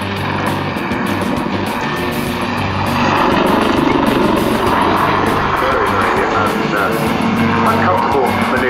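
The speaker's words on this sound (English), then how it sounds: "go into the trademark maneuver on the helicopter backflip" A Westland Lynx helicopter performing a backflip manoeuvre roars loudly and continuously, its rotor chopping in a rapid beat that swells partway through.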